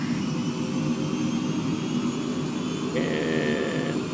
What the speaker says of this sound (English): We're going to raise up the RPMs here.